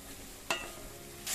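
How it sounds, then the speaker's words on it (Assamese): Potatoes and pointed gourd fry with spices in a pan, giving a steady soft sizzle broken by a couple of brief stirring scrapes, close and alone without talk. "আলু আৰু পটল দি মই গোটেইখিনি আকৌ কিন্তু 5 মিনিটমান ভালদৰে ভাজিম মচলাৰ লগত"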